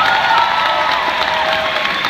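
A concert audience at EPCOT claps steadily and cheers for a band, a dense, continuous wash of applause throughout.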